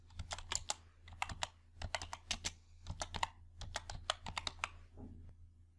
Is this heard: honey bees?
no